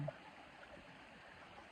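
A creek in nature flows with a faint, soft, continuous rush of water and no other sounds.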